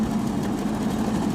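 A simple engine on a homemade rail car built from scrap parts, a car seat and wood planks drones in a steady, loud idle-like hum without pauses.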